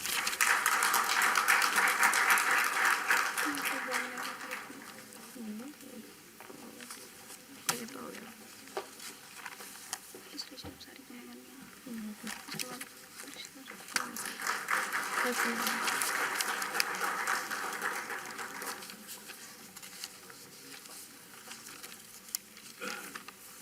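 Audience applause at the inaugural session of an annual college E-Summit, a clattering burst of clapping that fades, then rises again later, with an announcer speaking between the waves.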